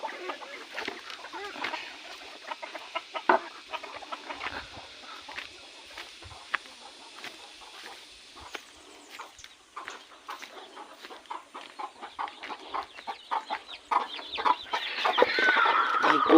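Free-range chickens and chicks cluck softly and steadily outdoors on a poultry farm, with scattered pecking clicks and rustles building toward the end.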